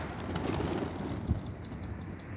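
Pigeons coo softly at close range, among them a stray white Mardin pigeon, a low rolling murmur over a steady outdoor background.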